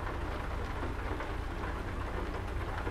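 Steady, dense rain drums on a truck in American Truck Simulator, a constant close hiss and patter with no let-up and no voices.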